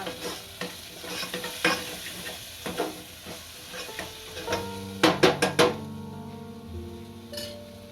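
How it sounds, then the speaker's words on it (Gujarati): Garam masala is stirred into a sizzling mixture in a pan while cooking green pigeon pea thotha, with continuous scraping and frying hiss and a quick burst of several metallic clinks midway. "ગરમ મસાલો નાખીશું. અને ફેરવી નાખશું."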